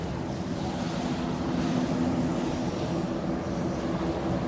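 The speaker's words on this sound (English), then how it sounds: "And one of the boats going past making the waves." Waves from a passing boat wash against a sandy bank on the Thames, making a continuous broadband rush that stays fairly loud and even throughout.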